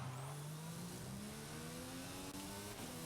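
A race car engine screams at high revs on a tarmac hill climb, a steady loud near whine rising in pitch as it accelerates, with no talking.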